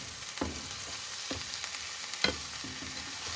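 Beef and onion pasta sauce, home-canned, heating in a pan over an off-grid cooking setup: a soft continuous sizzle with a few faint spoon knocks and scrapes, no voices.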